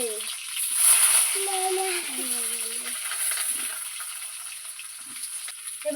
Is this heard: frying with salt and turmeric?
yes